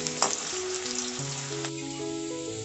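Potato pieces being fried until reddish in a pan after tempering spices, giving a soft continuous sizzle with a brief clatter near the start, while steady tonal background music plays over it.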